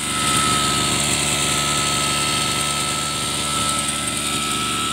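A turbocharged Mitsubishi TU33 33cc grass cutter engine runs at a high, steady buzz, close and loud, its rough two-stroke drone holding constant throughout.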